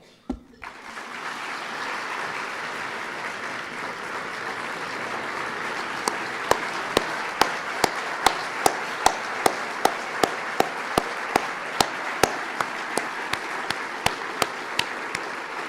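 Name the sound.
audience applause at farewell ceremony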